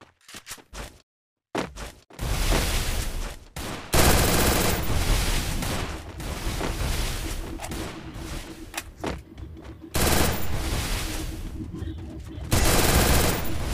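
Rapid bursts of automatic gunfire from the Woodpecker gun in a video game, firing repeated body shots in several long volleys with short pauses between them.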